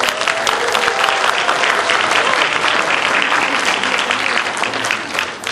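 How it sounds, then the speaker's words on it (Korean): An audience applauds loudly and steadily after a tenor's performance, a dense wash of clapping from a large crowd that carries on without pause. "다시 한번 뜨거운 박수 부탁드립니다"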